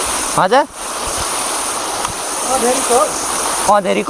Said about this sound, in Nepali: यो कुलोमा आएको पानी हो